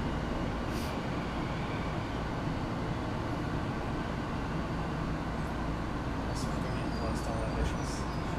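A Tokyo subway train heading to Asakusa gives a continuous rumbling roar along the tracks, with faint high squeals and clicks near the end.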